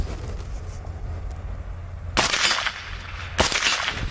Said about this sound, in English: So you can hear it's hitting that thing like a ton of bricks.